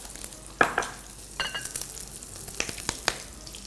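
Carbonara pasta is stirred in a pan with pecorino cheese, giving a run of soft scraping and clinking strokes at an irregular pace, close and fairly quiet, with no voices.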